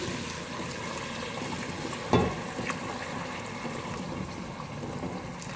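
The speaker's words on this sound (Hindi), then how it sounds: "अब इसमें पानी शामिल करेंगे।" Warm water poured into a pan of mutton kofta curry gives a steady liquid trickle and sizzle, with one louder splash partway through.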